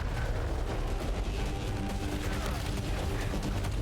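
Turrets firing in the video game SAROS make a dense, continuous roar of rapid gunfire and blasts, loud and unbroken, with speech faintly underneath.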